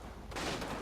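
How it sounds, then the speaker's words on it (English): A mortar round scores a direct hit in the World War II strategy game Combat Mission: Battle for Normandy, a deep, rumbling blast that erupts partway through after a low murmur and sustains a broad, moderately loud roar. "this just got a direct hit from a mortar"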